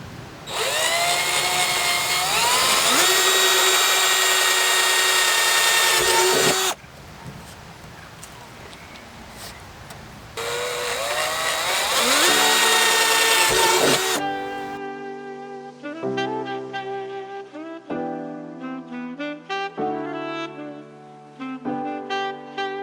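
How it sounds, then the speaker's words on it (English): A power drill whines loudly in two long bursts, drilling holes in a plastic water barrel, pausing between them, followed by a run of short plinking tonal notes. "drill a bunch of holes like that all the way around."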